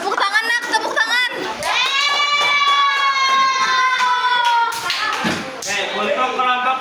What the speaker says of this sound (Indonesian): Tepuk tangan nak, tepuk tangan.